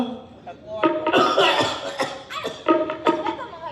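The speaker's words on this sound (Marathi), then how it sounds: "खोकलायला लागले ते" Repeated coughing bursts from a performer in a live Marathi tamasha folk theatre stage play, several harsh coughs spread across a few seconds, close and fairly loud, mixed with talk and a chuckle.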